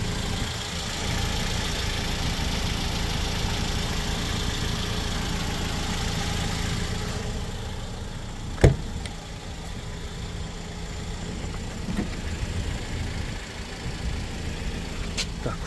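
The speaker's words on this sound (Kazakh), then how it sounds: "Мотор иштешин да уксаңар болот." A car engine idles steadily with a low, even hum, with a sharp click near the middle and a few faint knocks afterwards, and no talk.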